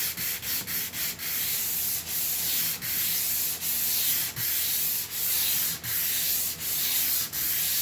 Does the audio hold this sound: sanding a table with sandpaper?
yes